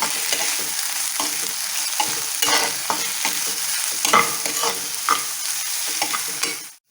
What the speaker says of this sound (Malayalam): ഇതൊന്ന് നന്നായിട്ട് വാടട്ടെ ഈ ഉള്ളിക്ക് വേണ്ടി നമുക്കൊരു അല്പം ഉപ്പിട്ട് കൊടുക്കാം ഉള്ളി നന്നായിട്ട് വാടി കിട്ടാൻ